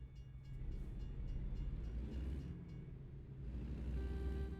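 A freight train carrying trailers rolls past in American Truck Simulator's Oklahoma map, a steady low rumble of wagons on rails holding close and loud from start to finish.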